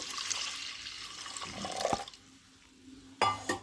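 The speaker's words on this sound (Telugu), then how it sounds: "వాష్ చేసుకున్న తర్వాత ఇందులోకి గ్లాస్ నీళ్లు పోసుకుందామండి." A glass of water is poured into washed moong dal in a pot, with close splashing and trickling that swells, drops away and then returns in a short final burst.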